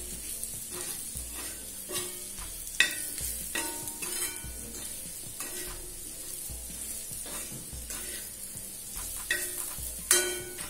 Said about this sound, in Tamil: மசாலா சேர்த்துட்டு நல்லா கலருங்க,